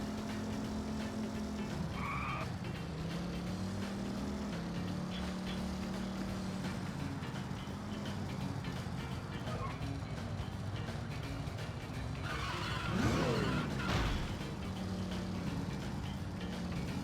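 A vehicle drives with turbo boost in the video game No More Heroes, a steady engine drone with a rising whoosh and skid-like squeals late on, no talking.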